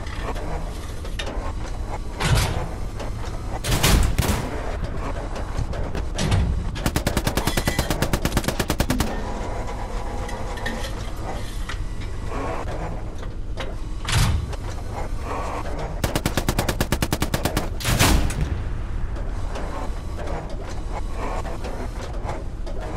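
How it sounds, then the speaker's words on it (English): Strafing-run gunfire in the World War II shooter Hell Let Loose: heavy machine-gun bursts rip through a constant battlefield din, with two long sustained volleys and several shorter bursts and booming impacts spread across the scene. "Strafing round coming in on Oleg's."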